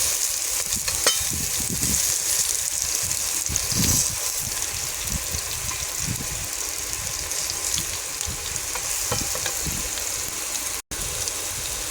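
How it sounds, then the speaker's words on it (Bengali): Gourd slices frying in oil in a pan, a continuous crackling sizzle with a few louder pops and bursts, close and steady throughout, with no voices. "দেখুন কত সুন্দর লাল লাল করে ভাজা হয়েছে সবগুলো"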